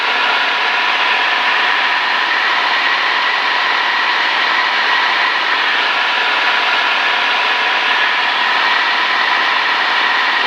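Inside the cabin of a Piper Turbo Lance II on approach, the engine gives a loud, steady, unbroken roar and drone that fills the whole stretch without a change.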